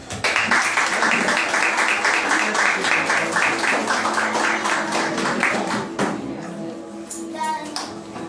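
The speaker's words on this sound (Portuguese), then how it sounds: "Que vocês recebam ele com as palmas que adoram o nome santo" A church congregation breaks into loud, sustained applause to welcome the prophet José Henrique. The dense clapping fills the room, then thins and fades near the end, with a few voices scattered through it.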